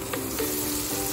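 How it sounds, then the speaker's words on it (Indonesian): Ground spice paste sautéing in hot oil in a wok, giving a steady close sizzle and frying crackle with a few brief stirring scrapes. "Saya tumis bumbu yang saya haluskan tadi."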